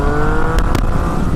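A motorcycle engine, either a Yamaha FZ-09 or a Suzuki DR-Z400, holds a steady, loud, continuous drone throughout, with two brief bursts as the throttle is blipped with the clutch pulled in.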